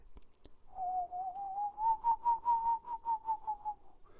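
A single person whistles one long, wavering tune, rising slightly then pulsing in short repeated notes, close and clear against near silence.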